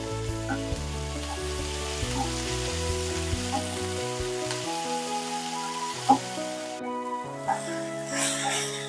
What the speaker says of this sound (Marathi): लसूण आणि थोडीशी कोथिंबीर आणि तीन ते चार मिनिट हे संपूर्ण साहित्य आपण परतून घेऊ